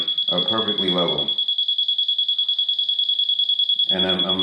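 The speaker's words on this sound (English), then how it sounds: "you're gonna get that solid long beep in the blue" A Bosch GRL800-20HV rotary laser level detector sounds a solid, steady high-pitched beep throughout, loud and close, with a person talking over its start and end.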